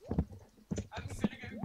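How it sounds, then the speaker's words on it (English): Horse hooves clip-clopping in the Stardew Valley video game, a few short irregular hoof hits mixed with game sounds while a person talks over them. "This is the horse."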